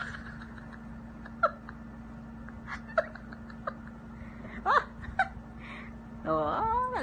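Scattered short yowls and hisses of two cats scuffling, one a black cat, ending in a longer, louder wailing cry, over a steady low hum.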